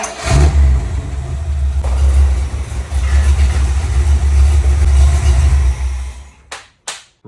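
An old truck engine runs loud and close at a steady rumble as it is pulled in, then cuts off near the end, followed by a couple of sharp clunks.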